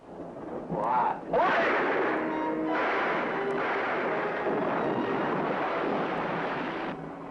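A gunshot-like boom from a shooting gallery in the film Night Tide, followed by a long rumbling, windy roar at night, loud and close with no clear talking over it.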